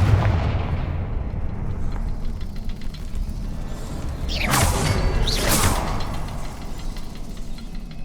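Confringo blasting spell cast in the Hogwarts Legacy video game, a loud rumbling blast with two bright bursts over a continuous low roar, no talking.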